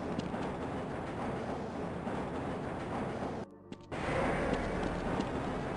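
The Black Mesa tram from Half-Life rolls along its track with a steady low rumble and rattle, dropping out briefly before resuming.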